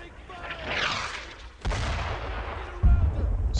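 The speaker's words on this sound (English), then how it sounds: "I need suppressing fire!" Gunfire in the World War II shooter Brothers in Arms: a sudden sharp report, then sustained rumbling fire and a heavy boom near the end, with shouting voices over the battle.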